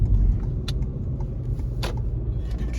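A car rolls up to a machine shop after a long drive, its steady engine rumble and road noise filling the cabin, with a few faint clicks and jingles over the low hum.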